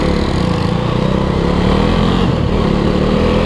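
Single-cylinder KTM 390 Duke motorcycle engine droning steadily and loud at close range while being ridden, a continuous even roar with a slight rise in pitch.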